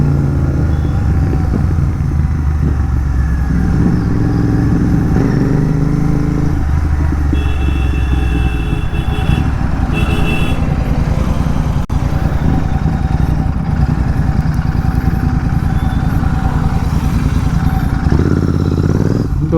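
A GT 650 twin-cylinder motorcycle rides at night with a loud, steady, raw engine drone that rises and falls with the throttle, along with wind rush and road clatter, throughout the whole ride.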